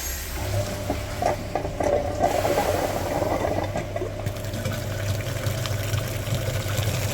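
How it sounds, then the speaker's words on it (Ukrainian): Cooling system flushing machine pumping antifreeze through the front radiator of a Mitsubishi Lancer X, a continuous watery churning with a low motor hum, steady and fairly close, no talk. "Перше підключення на передній радіатор. У нас чистенький фільтр. Вмикаємо апарат."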